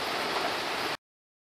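Rain falls steadily outdoors in a garden in autumn, an even, soft hiss that continues for about a second and then cuts off abruptly into silence.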